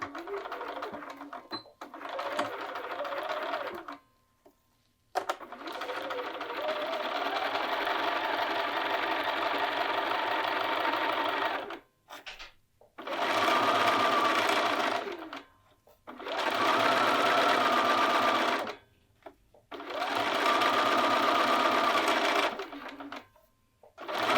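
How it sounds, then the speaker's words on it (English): A sewing machine stitches a cuff onto a short cuffed sleeve, running a half-inch seam around the circle. Its motor whirs close and loud in several sustained runs separated by brief pauses, with no talking. "We're going to use our 1/2 inch seam allowance and just sew around the circle."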